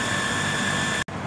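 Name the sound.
water pump motor running continuously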